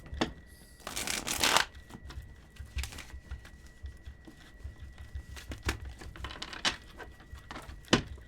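Tarot cards are shuffled in several quick riffling bursts, close and fairly quiet, with small taps and handling sounds between them.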